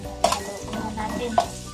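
A spoon stirs chicken igado in a pan with onion and garlic, giving two sharp scraping strokes over a steady low sizzle, close and moderately loud.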